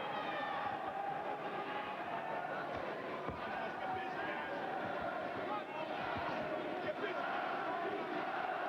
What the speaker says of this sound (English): Crowd getting into it again.